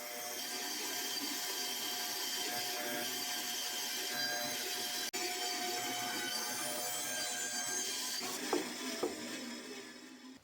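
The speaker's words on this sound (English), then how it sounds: "Cut it out on the bandsaw." A bandsaw cuts out a piece for a sailboat fiberglass repair, a steady high whine and buzzing blade noise held for about ten seconds, loud and close, with small clunks near the end.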